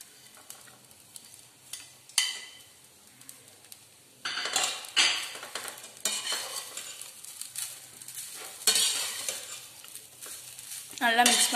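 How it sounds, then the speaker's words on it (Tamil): Fried paneer being stirred into rice in a pan, with repeated scraping and clattering strokes of a spoon against the metal and a light sizzle underneath, growing busier toward the end. "இப்போ வந்து நம்ம ஃப்ரை பண்ணி வச்சிருக்க பன்னீரை இந்த ரைஸ் கூட போட்டு மிக்ஸ் பண்ணிக்கலாம்."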